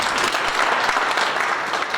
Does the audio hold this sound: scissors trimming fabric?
no